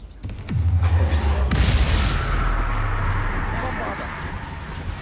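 A Confringo fire spell explodes in the game Hogwarts Legacy with a sudden deep boom that rolls into a long, loud rumbling tail, followed by a second blast and crackle layered under game effects.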